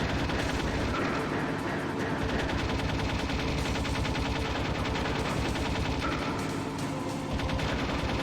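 Continuous rapid gunfire in the video game Metal Gear Solid, dense and loud throughout, with shots striking walls in an unbroken rattling stream.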